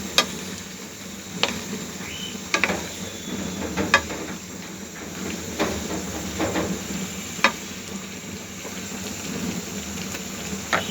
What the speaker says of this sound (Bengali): এখন আমি এগুলো ভালো করে নেড়ে দিচ্ছি যাতে শুটকির সাথে এটা মিশে যায়।